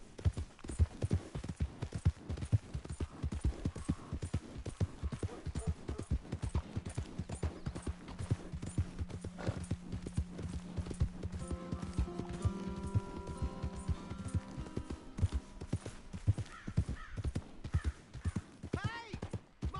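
Horse hooves clip-clop in a steady, fast rhythm in the Red Dead Redemption 2 video game, close and continuous for the whole stretch, with faint music and brief voices partway through.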